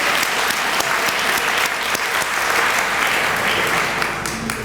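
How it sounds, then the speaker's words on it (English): Loud, dense audience applause fills a hall, close and continuous with a few sharper individual claps standing out. "I think she really deserves an extra special, her own round of applause"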